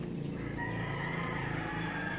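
Many roosters crowing on a small farm over a steady outdoor background, with drawn-out calls overlapping at moderate distance.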